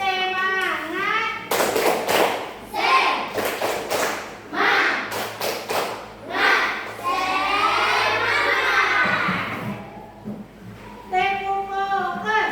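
Schoolchildren in an Indonesian classroom, led by their teacher, do a rhythmic clapping chant: sharp group claps in quick patterned bursts alternate with loud chanting children's voices, close and energetic.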